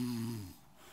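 A single snore from a bear in a storybook reading, a low buzzing rattle that fades out after half a second into quiet room tone.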